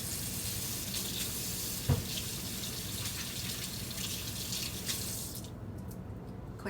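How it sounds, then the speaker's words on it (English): Steady running water from a kitchen tap pours into a sink during handwashing, a continuous broadband rush with one brief knock partway through and a faint drop in hiss near the end. "I'm gonna wash my hands."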